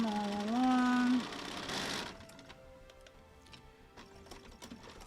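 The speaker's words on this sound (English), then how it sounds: "we are at the machine and I am going to be sewing a scant 1/4 inch seam all along." A sewing machine runs along a scant quarter-inch quilt seam, a faint, steady mechanical purr with light ticking. A sustained tone is heard at the very start.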